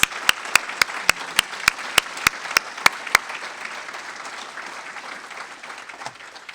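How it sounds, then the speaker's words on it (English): Applause from the audience for literacy students at a charity event, opening with a dozen sharp, evenly spaced nearby claps over a broad crowd wash that fades into softer sustained clapping. "let's do one more round of applause for our students."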